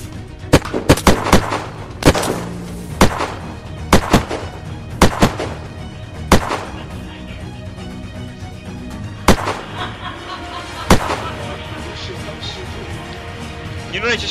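Repeated gunshots from the video game Unturned, sharp loud bursts in irregular clusters over game background noise, with voices talking throughout.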